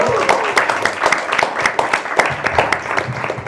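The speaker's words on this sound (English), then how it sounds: "So a round of applause for Lesia as well" Guests at an expert panel talk on entrepreneurship break into a round of applause, many hands clapping in a continuous patter with sharp individual claps, fairly loud and close.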